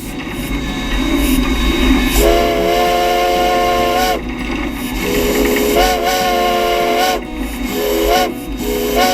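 An Everett Railroad steam locomotive No. 11 whistle sounds in several long harmonic blasts over a steady rumble and hiss as it pulls coaches away from the Hollidaysburg depot, loud and close.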